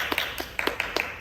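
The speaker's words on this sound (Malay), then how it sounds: "Jadi semua boleh tepuk tangan." Students in a classroom clap their hands, a short run of sharp, evenly spaced claps, fairly close and with no voices over them.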